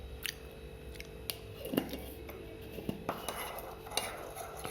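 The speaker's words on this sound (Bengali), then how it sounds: "ভালো করে মধু আর চাটাকে মিশিয়ে দিলাম" A spoon stirs honey and tea in a cup, clinking sharply against the sides in scattered taps over a faint background hum.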